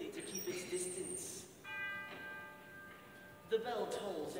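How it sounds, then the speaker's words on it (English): A church bell tolls once, a clear ringing strike that hangs and fades over a couple of seconds, with a voice speaking before and after it. "The bell tolls"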